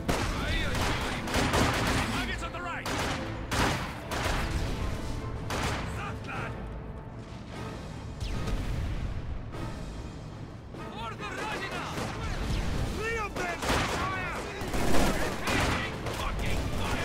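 Sustained battlefield gunfire from a Company of Heroes 2 battle, dense bursts of rifle and machine-gun shots with occasional heavier booms, loud and continuous under shouted voices throughout.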